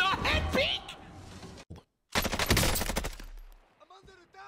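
Gunfire in the Warzone video game, a dense burst of rapid automatic shots after a short pause, with excited speech at the start of the clip.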